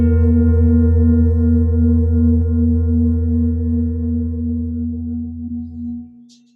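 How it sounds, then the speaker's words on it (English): A large old singing bowl about 18 inches across rings with a deep, steady sustained hum and bright overtones, slowly fading over several seconds before cutting off, alone and close. "So here's the sound of this old bowl."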